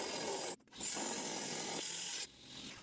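Two cut halves of a Picacho agate from Mexico scraped together, a close, loud gritty rasping that stops briefly, resumes, then fades to a softer scrape, with no voice over it.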